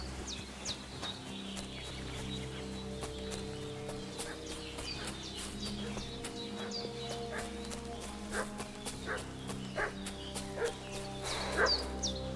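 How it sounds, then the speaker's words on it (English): A dog barks repeatedly in a medieval village setting in Kingdom Come: Deliverance II, sharp yaps at mid distance over a constant bed of ambient game sound, with horse hooves clopping nearby. "What's that dog making such a fuss about?"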